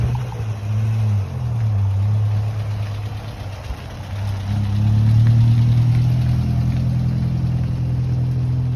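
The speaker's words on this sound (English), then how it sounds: "we're going to take out this lovely Ford Cortina Estate for a test drive." A 1964 Ford Cortina Estate pulls away on a test drive, its engine rumbling steadily at idle and then rising as it drives off, close and continuous with no talk.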